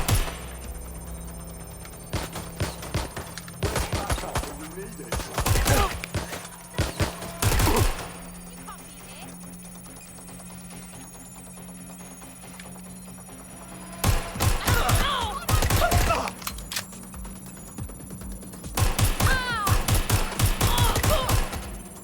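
Gunfire in the video game Watch Dogs Legion comes in several loud, sharp bursts of rapid shots, with quieter stretches in between over a steady low game hum.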